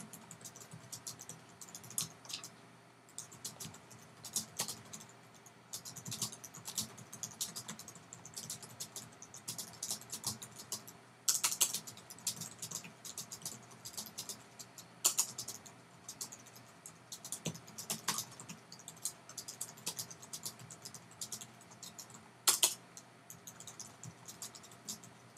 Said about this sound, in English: I'm just going to actually type in one sentence in here just to give you an idea.